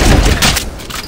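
Video game gunfire in a capture-the-flag match, a loud close burst of shots and booms packed into about a second, then dropping to quieter noise.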